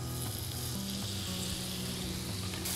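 Mashed sweet potato drops into a pan of hot garlic and sizzles loudly and continuously up close, with faint stirring underneath.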